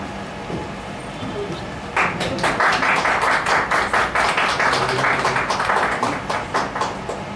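Audience applause for artists at a karaoke and award ceremony in Bengaluru honoring Dwarakish, a burst of rapid clapping that starts abruptly and carries on steadily for several seconds after a quieter opening.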